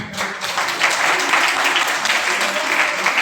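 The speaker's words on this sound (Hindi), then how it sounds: "इनको ताली मार दीजिए" An audience at a business seminar bursts into dense, sustained applause, loud and close, a continuous wash of many hands clapping from start to finish.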